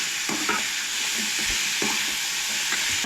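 Onion frying over medium heat while being stirred for Goan chana masala, a constant loud sizzle broken by repeated scraping strokes of a spatula against the pan.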